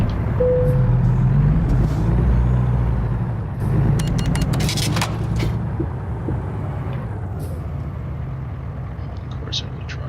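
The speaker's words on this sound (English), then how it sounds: "Of course, there's a truck coming." Trucks and a car passing on a road in American Truck Simulator: a loud low diesel rumble with an air-brake hiss early on, fading into steady engine drone with faint beeps.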